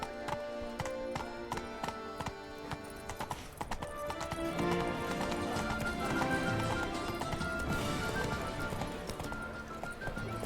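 Hooves from a galloping horse in the video game Witcher 3 drum in a steady, quick rhythm, joined by a short whinny, layered over game music and ambience.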